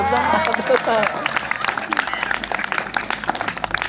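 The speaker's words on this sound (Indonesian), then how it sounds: "Tepuk tangan." Applause breaks out from a school crowd at a junior high in Padangsidimpuan, loud at first and mixed with chatter, shouting voices and a busy hubbub, with a speaking voice over the start.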